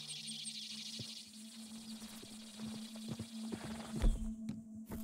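Horse hooves in Red Dead Redemption 2 clop faintly and irregularly over a steady hum and background ambience, a few heavier thuds near the end, with no talking.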